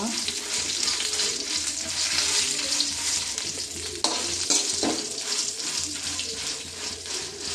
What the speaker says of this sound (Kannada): ಸ್ವಲ್ಪ ಈರುಳ್ಳಿ ಮೂರು ಎಸಲು ಬೆಳ್ಳುಳ್ಳಿ ಹಾಕ್ತಿದ್ದೇನೆ ಚೆನ್ನಾಗಿ ಫ್ರೈ ಮಾಡುವ